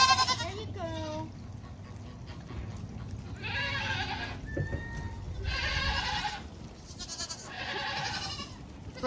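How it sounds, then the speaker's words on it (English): Goats on a farm bleating repeatedly, several loud wavering bleats in bursts close by, with a person speaking softly between them and a low background hum. "Here's your goat."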